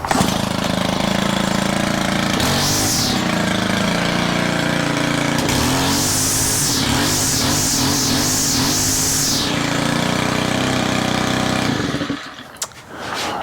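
A Stihl weed eater with a freshly replaced clutch drum runs loud and close, holding a steady buzzing idle, then revving up in several rising bursts before the engine cuts off near the end.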